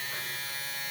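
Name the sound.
JRL Ghost single foil electric shaver humming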